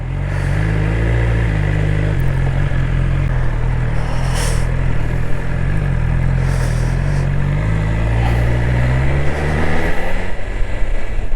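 A 2024 BMW S1000XR motorcycle engine drones steadily and loudly while riding, with a strong low hum that rises and falls slightly with throttle, plus wind noise throughout and no talking.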